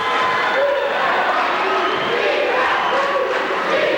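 A high school boys basketball crowd at a Stryker home game roars continuously, a dense wall of cheering and shouting voices that holds loud for the whole stretch.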